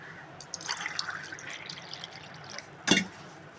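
Water poured from a measuring glass into a pan for kozhukattai dough, two glasses of water per glass of flour, a soft splashing pour followed by one louder close splash near the end.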